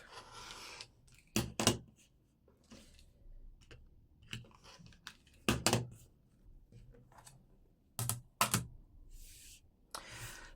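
Scissors snip through a fabric piece for a driftwood diamond quilted wall hanging, several crisp close cuts in short bursts separated by quieter handling noise, with no talking.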